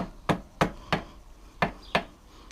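Five sharp metallic taps, a hammer striking a screwdriver against a motorcycle headset castle nut in a fairly even rhythm, close by with quiet pauses between blows.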